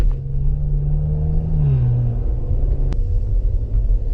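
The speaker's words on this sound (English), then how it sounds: "that twin-turbo V6 entertaining with the noise that comes out of the exhaust" A deep, steady twin-turbo V6 exhaust rumble from a 2016 Maserati Levante S, continuous and fairly loud, with a slight pitch drop partway through and a brief click near the end.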